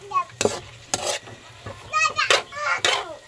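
Soy sauce poured into a hot pan during home cooking, giving sharp bursts of sizzling and stirring scrapes in quick succession, with children's voices chattering close by.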